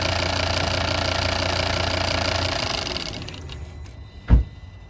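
A Volvo XC90 D5 AWD diesel with a stuck swirl flap actuator idles with a steady, close rumble, then shuts off and fades out, ending in a single soft thump.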